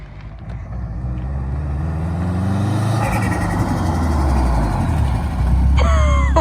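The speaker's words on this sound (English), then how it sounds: "I've never been outside the car when someone's did a pull." A Subaru STI accelerates hard through a pull outdoors, its loud engine rumble rising steadily in pitch and volume, with a sharp high whine near the end.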